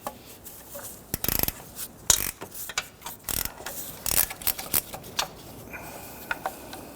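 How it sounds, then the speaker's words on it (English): A gear wrench ratchets loose the oil pan bolts on a 1992-1996 Toyota Camry 2.2L I4, with close, quiet bursts of clicking separated by short pauses. "Now we're using a gear wrench right here."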